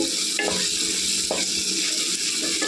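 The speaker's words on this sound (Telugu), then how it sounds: "కూర నూనెలో కాసేపు వేగనివ్వాలండి ఇది మసాలా వాసన పోయేదాకా" Prawn curry masala fries in hot oil with a dense, constant sizzle, broken by a few sharp spatula scrapes and stirs close up.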